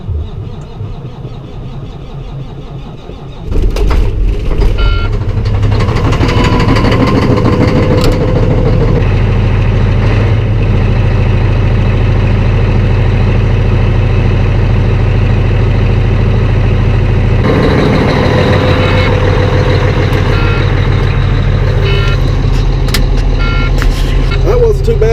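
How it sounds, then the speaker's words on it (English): A truck fitted with eight batteries and a battery-operated APU cranks and starts in snowy cold weather, then settles into a loud steady idle with a rough engine rumble. "A little bit slow to turn over, but considering it had 8 batteries on it, it got the job done"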